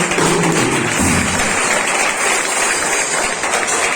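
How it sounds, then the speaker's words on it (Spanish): Steady applause from a church crowd, a dense wash of clapping that holds at an even, loud level throughout. "Bríndale un fuerte aplauso."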